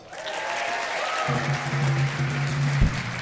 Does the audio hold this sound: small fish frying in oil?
no